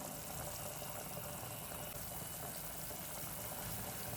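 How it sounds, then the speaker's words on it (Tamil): Salted water at a rolling boil in a pot for breakfast cooking, a dense, steady bubbling hiss that stays constant and fairly faint with no talk over it. "இந்த தண்ணி வந்து நல்லா பபிள்ஸ் வர மாதிரி கொதிக்கணும்"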